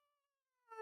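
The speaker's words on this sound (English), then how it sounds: "I just hear a cat meow" A cat gives a single short meow, rising suddenly at the very end after near silence, close to the microphone and fairly quiet overall.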